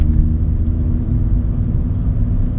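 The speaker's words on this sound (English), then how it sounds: "This non-standard sports exhaust gives it a nice throaty throb to the 1600 turbocharged car" A 2012 Mini Cooper S (R56) with a 1.6-litre turbocharged engine and non-standard sports exhaust drones steadily on a road, a deep, throaty rumble heard from inside the car at a constant cruise.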